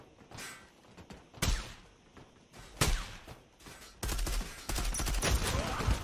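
Gunfire from an AUG rifle in the Zula shooter game: scattered single shots give way to a dense, rapid burst near the end, with clatter and thuds in between.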